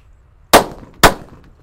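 Two Super Whistling Thunder firecrackers wrapped in paper burst outdoors, each a sharp, loud bang with a short decaying tail, about half a second apart.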